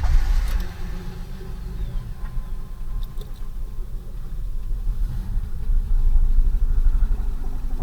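1993 Ford Taurus with a rough-running engine and a fuel problem: low uneven idle rumble with a deep fuel pump hum, surging louder toward the end.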